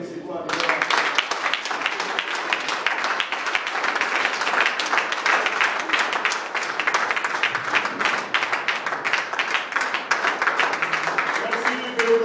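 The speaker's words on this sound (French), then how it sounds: "Est-ce qu'on peut acclamer" A church congregation claps and applauds continuously in a dense, even patter that keeps up steadily without pausing.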